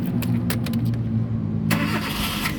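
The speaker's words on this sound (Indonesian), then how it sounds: "sekarang kita coba nyalakan mobil" A 2010 Kia Rio 1.4 manual hatchback starts up close by, with a short burst of key and starter rattling before the engine catches and settles into a steady, loud idle that runs on to the end.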